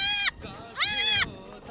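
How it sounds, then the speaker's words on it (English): Two loud, close bleats from a little goat in Mauritania, the second longer and quavering, with a short quiet gap between them. "Hey look, this little goat."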